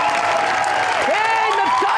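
A studio audience on an Eid special TV show applauds to welcome a singer, a steady wash of clapping and crowd noise under loud, sweeping musical tones.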